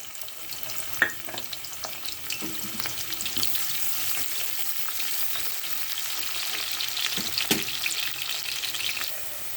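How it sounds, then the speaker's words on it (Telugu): Cumin seeds and onions hit hot oil in a pan, making a continuous moderate sizzle with scattered pops and a few sharp clinks of a spoon. "ఆయిల్ హీట్ అయింది. 1/2 స్పూను జీలకర్ర వేసుకుంటున్నాను. తర్వాత ఆనియన్స్ వేసుకుంటున్నాను."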